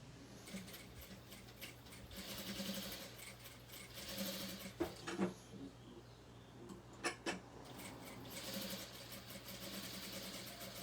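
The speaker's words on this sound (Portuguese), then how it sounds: "Retrocesso no início e no final, sempre aqui na hora que a gente para as costurinhas." A sewing machine backstitches the seams of a plush rabbit toy, producing a low mechanical whir with bursts of rapid stitching and a few sharp clicks, moderately quiet and without talk.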